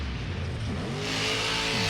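Zombie monster truck's engine at Monster Jam in the Carrier Dome, Syracuse: a loud, close roar that revs upward with a rising pitch over a noisy arena crowd.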